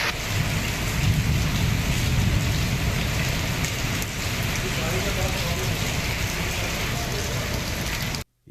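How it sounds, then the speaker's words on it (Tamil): Heavy rain pours steadily during a downpour in Puducherry, a dense, loud, unbroken hiss with a low rumble beneath, continuing without pause until it cuts off abruptly at the end. "பரவலாக கனமழை பெய்து வருகிறது"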